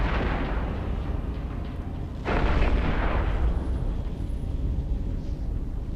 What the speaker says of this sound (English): And the Vindicator has been destroyed